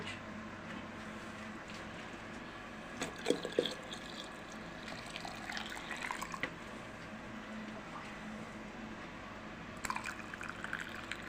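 Boiled water trickles and splashes steadily into a jar of currants, with occasional clinks and drips, close by and fairly quiet.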